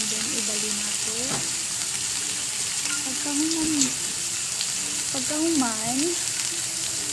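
Lemon, salt and pepper marinated swordfish sizzles steadily in a frying pan, a constant hiss of hot oil while someone talks over it.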